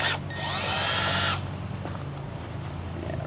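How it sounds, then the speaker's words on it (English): A power drill whines loudly for about a second while drilling vertically into metal in a Mercedes Sprinter's rear door section, then cuts off, leaving a low hum and faint background noise. "You're gonna be drilling vertically into this."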